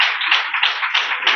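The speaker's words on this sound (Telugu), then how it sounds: "క్లాప్స్ కొట్టండి." A small group of children at a Sunday school event clapping together, a quick continuous patter of close, fairly loud claps lasting about a second and a half.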